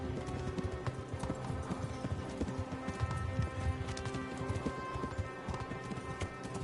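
Steady clip-clop of horse hooves trotting at an even rhythm in the video game Kingdom Come: Deliverance, continuous and fairly close, with no talking.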